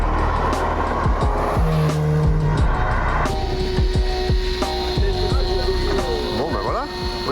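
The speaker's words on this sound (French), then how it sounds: "la Porsche est déjà sur la piste" A Porsche GT3 RS runs on a race circuit, its engine revving loudly with rising and falling gear changes and an occasional tire squeal. Voices speak over the car.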